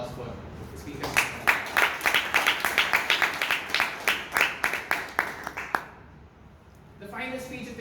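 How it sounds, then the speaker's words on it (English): Audience applause at a Toastmasters club meeting in Bangalore: a modest room of people clapping in distinct rhythmic bursts for several seconds, fading out, followed by a faint voice. "A round of applause for the speakers."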